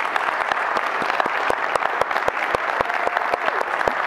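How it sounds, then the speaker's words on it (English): Applause from an audience at a foundation talk event, dense continuous clapping with distinct individual claps standing out sharply, steady and fairly loud throughout. "I appreciate the applause"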